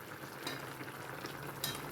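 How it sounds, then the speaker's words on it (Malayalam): Beef stewing in a frying pan for a Kerala-style pepper beef fry, stirred gently with a utensil, giving a steady close-up sizzle and bubbling with a few brief scraping clinks. "ചെറുതായിട്ട് ഇളക്കി നോക്കാം അല്ലേ."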